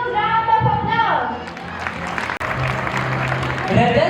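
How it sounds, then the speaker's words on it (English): Audience applause and clapping for school dignitaries at a school annual day celebration, a broad steady wash of hands across the whole stretch, with music tones and a voice over it at the start. "with a huge round of applause"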